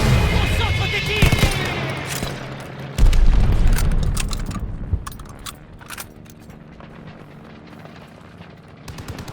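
In the Call of Duty Vanguard game, a heavy explosion booms amid a roar of engines and bursts of gunfire, then the blast fades under continuing scattered shots and rumble.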